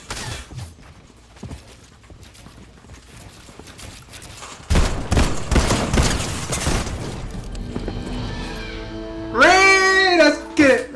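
A spraying gun in Fortnite lets off rapid bursts of shots, followed by a high squealing voice and excited talk.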